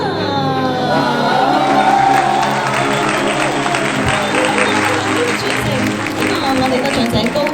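A wedding party crowd in Hong Kong applauds and cheers after the bouquet toss, a dense continuous wash of clapping and shouting with voices mixed in throughout.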